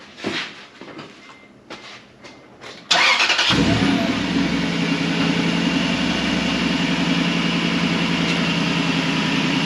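A few faint clicks and rustles, then a 2005-2006 Toyota Tundra pickup with aftermarket mufflers cranks and catches, settling into a loud, steady low idle that continues to the end.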